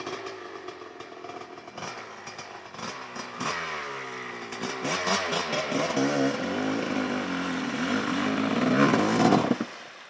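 Enduro motorcycle engine revving up, pitch climbing and wavering as it accelerates, loud and close, then cutting off abruptly at the end.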